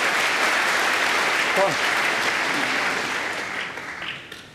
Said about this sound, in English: They love cheering on one of their own